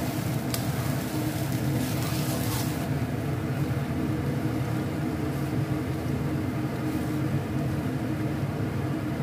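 Cooked rice frying in a pan with boiled peas, a steady low sizzle and hiss running throughout, fairly faint and even, with no voices.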